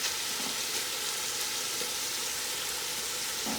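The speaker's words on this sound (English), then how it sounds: "The sizzling is going down just a little bit, but that's fine." Food browning over high heat in a pan gives a loud, steady sizzle and crackle, close and continuous with no pauses and no talking.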